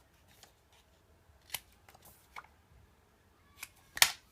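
Scissors snip the corners off paper for a handmade mini album with butterfly closure, a few sharp, close cuts spaced irregularly among soft paper rustles, the last snip the loudest.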